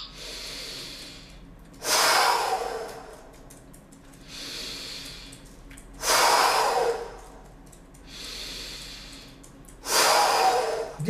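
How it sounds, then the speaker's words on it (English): Slow, deep breathing exercise: three cycles of a long, quiet, airy inhale followed by a held pause and then a forceful, louder exhale rushing out, spaced evenly about every four seconds. "First, I will take oxygen. I will stop. After, I will exhale and stop one more time."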